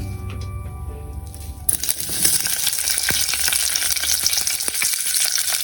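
After a low hum, a loud sizzle bursts out as onions hit hot oil, then crackles and hisses steadily, close and continuous.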